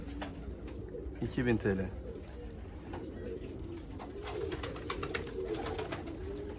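Domestic pigeons, flying tumbler birds in a loft, coo in soft repeated rolling calls close by, someone speaking over them.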